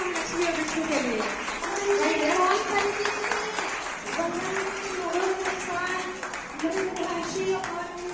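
Applause from the audience at a women's honour ceremony of a Brahmin community association in Bhatapara, a sustained wash of many hands clapping throughout, with faint voices and tones running beneath.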